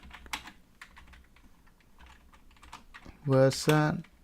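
Keys tapped on a computer keyboard while typing a command into the Mac terminal, a scatter of soft, close clicks, followed near the end by a brief burst of speech.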